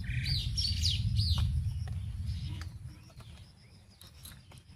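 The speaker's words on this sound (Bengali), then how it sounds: "কত পাখি ডাকছে দেখুন, কিচিরমিচির।" Birds chirp and twitter in quick bursts close by in a green village yard with flowering trees, followed by quieter scattered calls.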